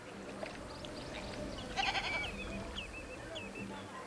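Goats bleat in the dinosaur park game Jurassic World Evolution, a few short wavering cries rising over a busy ambient bed, moderately close and not very loud.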